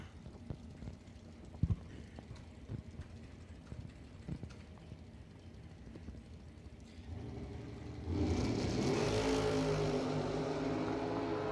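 Beretta and Corvette launching down a drag strip; after quiet track ambience with scattered clicks, engines suddenly surge into a loud, sustained roar in the last few seconds.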